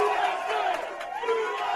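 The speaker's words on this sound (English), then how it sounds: "they get a rousing, rip-roaring load of applause from the crowd outside the Atlas Gym" Crowd gathered outside the Atlas Gym in New Jersey cheering and clapping, a steady roar of mixed voices and shouts heard from a short distance.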